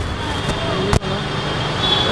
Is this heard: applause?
no